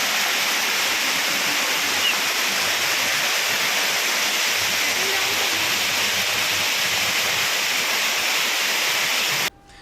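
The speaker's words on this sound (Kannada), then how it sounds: "ಎಸ್ಕಲೇಟರ್ ಸ್ಟೆಪ್ ಮೂಲಕ ಮೆಟ್ರೋ ನಿಲ್ದಾಣದೊಳಗೆ ನೀರು ಹರಿದು ಬರ್ತಾ ಇದೆ" Heavy rainwater pouring down escalator steps into a flooded underground Mumbai metro station, a loud continuous rushing roar like a waterfall that holds steady and cuts off abruptly at the end.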